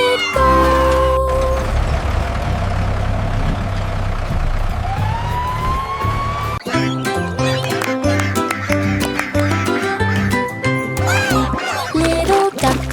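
A cartoon cat meows repeatedly in an animated nursery rhyme for kids, its rising calls set over a bouncy backing tune, with fire-truck siren effects and bright musical notes joining in partway through.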